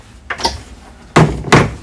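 Folding aft cabin door on a Sirius 40 DS yacht swung shut, giving a soft rustle then two solid thunks close by, with a faint knock just before.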